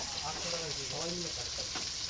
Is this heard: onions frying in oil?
yes